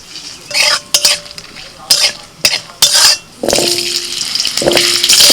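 Dried red chillies and black mustard seeds sizzle in mustard oil in a kadai, with repeated sharp clanks of a spoon stirring against the pan over a crackling hiss, loud and close.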